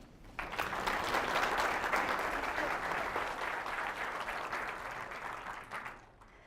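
Sustained audience applause welcoming a guest speaker at a university event, a dense wash of clapping that starts abruptly, holds steady for several seconds and fades out at the end, with no talking over it.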